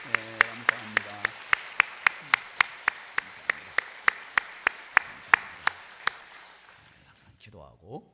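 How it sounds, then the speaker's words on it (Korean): A church congregation at Buyeo Central Holiness Church claps for its elders and helpers: close, sharp claps in a steady, even beat that trail off, with a voice briefly heard at the start and end. "우리 어른들께 그리고 수고한 모든 분들께 뜨거운 박수로 격려합니다"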